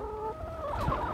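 Backyard chickens cluck up close, with several overlapping tonal calls and a brief rising squawk near the end, loud and clear with no talking.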